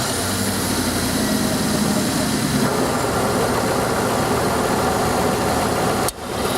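Dodge Dakota 4x4 with a 5.2L engine idling just after starting, a steady loud broadband rumble with a constant hiss that runs evenly throughout, close to the engine bay.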